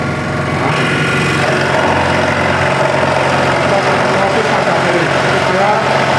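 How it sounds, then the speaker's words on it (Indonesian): A scroll saw cuts slowly through wood along a marked line, a steady loud motor hum and buzzing blade running continuously for the whole stretch without a break. "Supaya mata gergaji tetap mengikuti alur yang telah kita buat."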